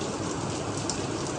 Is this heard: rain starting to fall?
yes